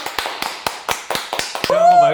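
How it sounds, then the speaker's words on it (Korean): Two people clapping together at close range, a steady run of about nine sharp claps, followed by a voice that rises over the end of the clapping. "피디님도 저도 모두 박수!"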